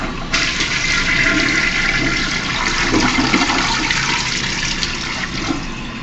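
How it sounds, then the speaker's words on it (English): A Crane Plumbing commode in a truck-stop restroom flushing with a loud, steady rush of water that lasts several seconds without fading much. "Let's give it a flush."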